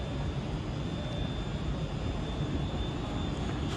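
A Scotrail Class 380 electric train, unit 380-105, pulls out of Glasgow Central station on the 09:58 service. It gives a steady, broad rumble and hiss with a faint high whine, constant throughout and fairly close.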